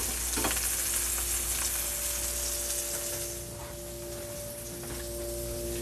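Salmon sears in a hot pan with a steady, close sizzle and crackle throughout, a bright spatter at the start, easing slightly after the midpoint; no one speaks.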